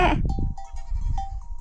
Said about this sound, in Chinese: 小羊，咩